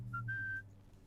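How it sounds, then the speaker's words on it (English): A short whistle in the video game Trails Beyond the Horizon: a brief pip, then one longer steady high note lasting about a third of a second over a low hum. "That whistle."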